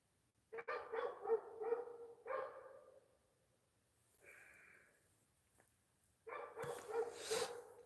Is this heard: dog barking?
yes